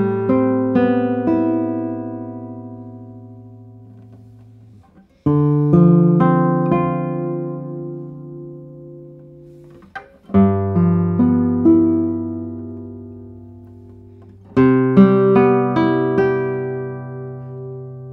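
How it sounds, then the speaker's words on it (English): Torres SE 69 classical guitar with a spruce top and Indian rosewood back and sides, played solo in four strummed and plucked phrases, close and clear with ringing chords that decay between each one. "this guitar sounds very direct and full-bodied"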